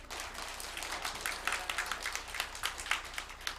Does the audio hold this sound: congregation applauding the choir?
yes